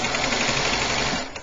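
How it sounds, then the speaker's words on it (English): A coverstitch sewing machine stitching elastic at a waistband, giving a fast continuous close whir that runs steadily and then slows at the end, with no talking. "Sometimes your machine wants to stitch on a slightly different plane than the line"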